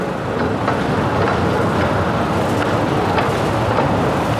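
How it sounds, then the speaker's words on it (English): A four-carriage passenger train on the Blackpool Pleasure Beach service rumbles along the track from inside a carriage, a constant loud roar with faint rhythmic rail clicks. "This train is made up of 4 carriages."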